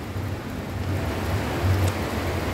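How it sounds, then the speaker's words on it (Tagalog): Heavy rain falling steadily outdoors, a dense continuous hiss with no breaks and no talking. "lakas na ng ulan"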